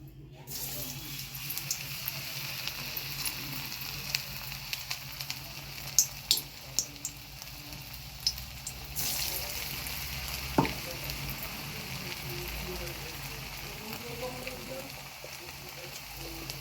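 Raw banana koftas sizzle steadily in hot oil, a continuous bright frying hiss with a few scattered pops, close by and without speech.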